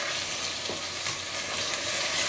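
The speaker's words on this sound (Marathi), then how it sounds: "हो मसाला बरो फ्राय केला" Vindaloo masala paste frying in a pan for Goan pork vindaloo, giving a steady, close hiss of sizzling oil that runs without a break, with no voices.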